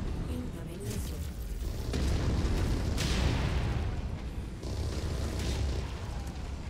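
Missile explosions in the video game MechWarrior 5 roll out as a dense, loud barrage of rumbling booms and crackling blasts that swell and overlap, with no clear gap between impacts.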